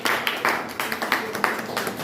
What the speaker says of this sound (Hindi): एक और ताली उनके लिए